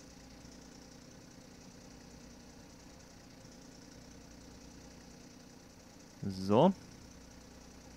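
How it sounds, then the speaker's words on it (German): A portable power generator runs at a night firefighting scene in a fire-service game, giving a low, steady mechanical hum throughout. A voice speaks briefly near the end. "Wir holen uns jetzt bloß noch den Generator raus."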